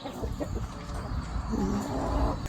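Farm chickens clucking nearby, with repeated short clucks and calls running over a busy background of other rural sounds.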